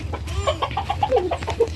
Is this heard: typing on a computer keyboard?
no